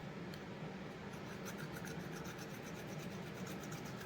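A hand file rubs over a Stihl 084 chainsaw part, giving a steady, continuous rasping scrape that stays close and even throughout with no talking.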